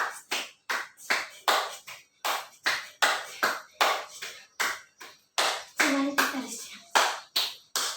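Rhythmic hand claps during a yoga exercise session, loud and close, about two claps per second in a steady counted beat with brief pauses between groups.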